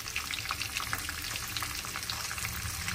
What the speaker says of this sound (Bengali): এই পেঁয়াজ কুচিটা একটু ভেজে নিই